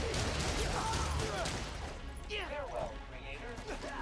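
Enemy gunfire in Spider-Man: Miles Morales, a dense run of shots that is loudest at the start and then thins out under chirpy game effects and someone talking.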